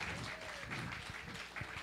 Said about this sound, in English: Give it up for her. A round of applause